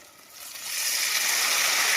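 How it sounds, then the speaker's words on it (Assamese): Hot water poured into a pan of frying potatoes, a rushing hiss that swells within the first second and then holds steady and loud to the end. "এতিয়া অলপ গৰম পানী দি দিছোঁ"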